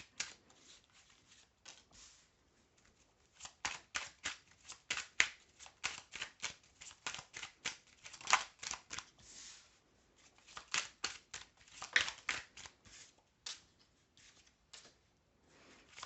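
Tarot cards being shuffled and drawn by hand, bursts of close, crisp riffling and flicking that stop and start repeatedly with short quiet gaps.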